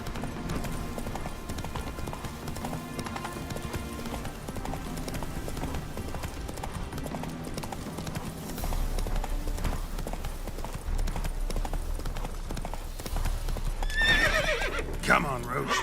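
Roach, a horse in The Witcher 3, gallops with a rapid, continuous clip-clop of hooves under game music, and a sharp neigh rings out near the end.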